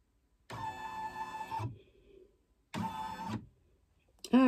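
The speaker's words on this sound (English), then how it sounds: "Hit embroider. And let's see where it's going to stitch." An embroidery machine traces the outline of a monogram design on a towel before stitching, giving two steady whirring motor runs of about a second each with a short pause between, close and moderately loud, ending in a brief clatter.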